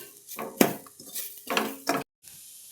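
Ground coconut roasting in a pan, heard as repeated close metallic scrapes and clinks of a spoon stirring, with a faint sizzle and a brief gap near the end.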